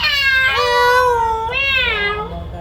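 A person imitates a cat's meow, giving two drawn-out, wavering meows, loud and close, with no other sound.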